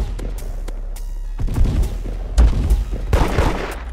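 Shotgun blasts from the Roblox game Da Hood, several heavy booming shots fired at irregular intervals over a steady game background, with the loudest bursts in the second half.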